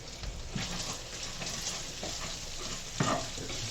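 Chopped bacon renders and sizzles in a pan, a steady close crackle punctuated by a few stirring scrapes and clunks, one sharper knock near the end, no voices.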